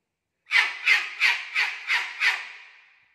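A pet bird squawks loudly six times in a steady rhythm, each harsh shriek close to the microphone, the last one trailing off into silence.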